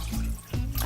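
Water pours into a pot during chocolate-making with coconut and sea salt: a brief splashing trickle with a short pause before the flow resumes.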